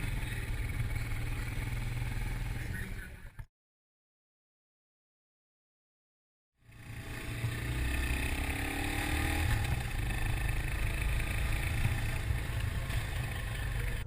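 A 2020 Bristol Classic 250 motorcycle ridden on the road gives a steady engine drone mixed with wind rush. It cuts to silence for a few seconds, then the drone returns at the same level.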